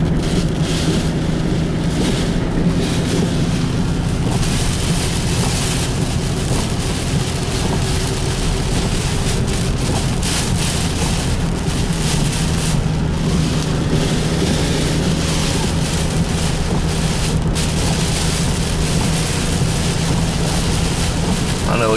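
A car drives through flood water on submerged roads during Hurricane Harvey, giving a steady, loud wash of water spray and tire splashing over a low engine rumble that persists throughout without pause.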